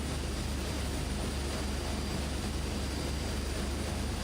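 Aerosoft Twin Otter twin-turboprop engines in Microsoft Flight Simulator, a steady dense engine roar with whining turbine tones, loud and continuous throughout without talk.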